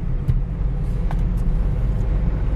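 A car straining to pull away in third gear, its engine lugging with a heavy, continuous low rumble that stays steady and close throughout, with no talk over it.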